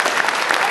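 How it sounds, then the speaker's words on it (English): A crowd breaks into a dense, steady burst of clapping for an IDW comic book by Joe Hill, loud and continuous for under a second. "Clap for it, damn it."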